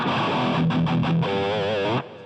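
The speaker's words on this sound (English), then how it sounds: "high gain distorted amp" A BOSS GT-8 multi-effects unit running a high-gain distorted amp tone drives loud, saturated guitar chords and a bent, wavering held note before cutting off abruptly.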